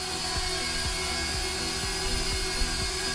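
A Holy Stone HS430 toy drone, a tiny kids' FPV quadcopter, hovers indoors with a close, steady high-pitched propeller whine and faint pulsing motor tones.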